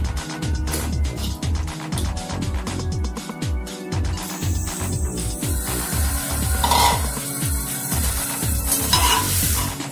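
Meat sizzling as it is dropped into hot oil with whole spices for a stew, with steady frying hiss and repeated scraping stirs of a spoon against the pot, no talk.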